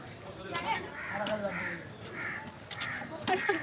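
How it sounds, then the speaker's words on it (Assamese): Crows caw repeatedly at moderate distance at Sukreswar Temple, harsh calls spaced a second or so apart, while people talk nearby. "চৰাই মাতি আছে"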